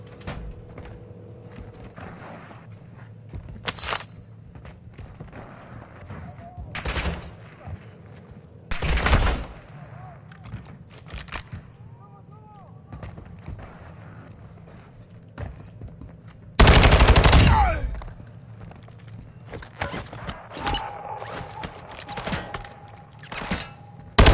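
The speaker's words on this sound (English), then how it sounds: "I think those might be bots shooting each other." Gunfire from bots shooting each other in the DMZ mode of a video game: several separate bursts at a distance, with one long loud volley near the end and quieter mechanical clicks and creaks between them.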